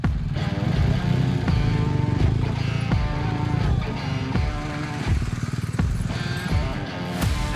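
BMW GS adventure motorcycles ridden close together in a confined off-road area, engines chugging and revving continuously at close range with uneven throttle blips throughout.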